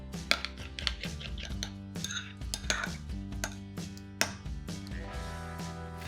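Walnuts, about 200 grams, chopped briefly in a kitchen food chopper, giving a close, busy clatter of hard nut pieces knocking and rattling against the blade and bowl, in quick irregular bursts.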